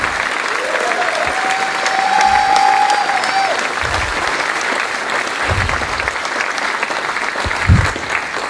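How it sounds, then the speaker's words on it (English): Steady, loud applause from an audience at a musicians' association hall of fame ceremony fills the whole stretch, with faint crowd murmur underneath. "I'd like a big hand for Charlie Green"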